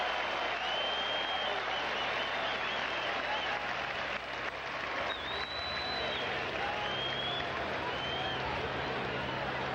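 Baseball crowd at Fenway Park cheering a strikeout by the Red Sox against the White Sox: a loud, sustained roar of applause and cheering that runs unbroken, with high whistles cutting through now and then.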